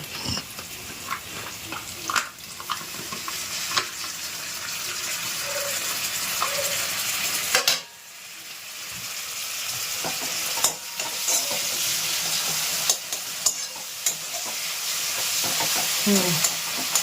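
Food being beaten or whisked in a home kitchen while chicken cooks for a thin chicken curry, a steady scraping stir with sizzling beneath, brief knocks here and there, and a short pause midway.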